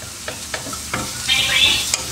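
Onions sautéing in a pan for an egg curry, heard as a few soft stirring knocks and a brief rising sizzle up close. The burst is short and moderately loud.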